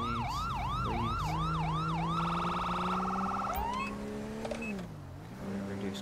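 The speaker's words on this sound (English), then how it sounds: "Respect the lights and sirens, please." A police car siren in GTA 5 wails loud and close, sweeping up and down in a rapid cycle before switching to a fast yelp, with engine drone beneath throughout.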